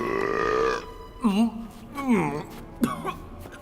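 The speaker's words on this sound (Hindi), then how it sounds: "इसका डकार तो पादर के पात से भी गंदा है" An old monkey with a long beard gives several gurgling burps in quick succession, loud and close, each one a rough guttural croak.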